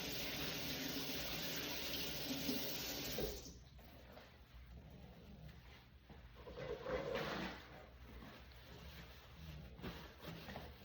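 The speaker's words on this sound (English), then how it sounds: "First up, wash your hands." Hands being washed under a running kitchen tap, with a steady gush of water close by for a few seconds before it stops, followed by softer dripping, splashing and handling sounds, no talking.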